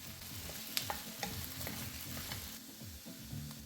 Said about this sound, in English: the main objective here is to cook the potatoes completely through and the onions as well